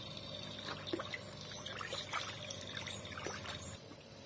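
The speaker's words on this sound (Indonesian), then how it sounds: "kita biarkan saja sampai mesinnya tidak kuat narik lagi" A pump engine strains to pull the last water from a neglected fish pond, with a steady low motor drone under a trickling, pouring stream of water.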